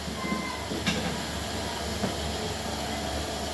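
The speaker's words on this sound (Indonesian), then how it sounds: "untuk suara mesinnya adem ya, silent ya, nggak berisik" A cotton candy machine runs quietly during a test, with its motor spinning and burner lit. It gives a steady, even hiss and low hum that holds for the whole stretch, with a couple of faint clicks and no talking.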